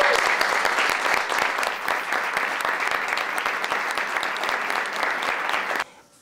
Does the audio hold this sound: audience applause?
yes